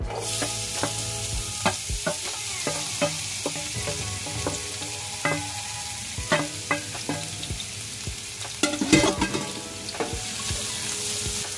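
Chopped onion sizzling steadily in hot olive oil in a pan, a loud continuous fry with repeated sharp clinks and scrapes of a utensil stirring, sauteed as a side dish with carrots and cashew nuts.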